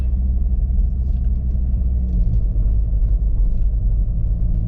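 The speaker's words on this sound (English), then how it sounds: "just let the car just gently roll over them, so I'm not taking out on the springs" Steady, loud low rumble of a car rolling slowly over a potholed, hole-filled track beside the River Alwin, heard from inside the vehicle as a continuous close drone with no talk.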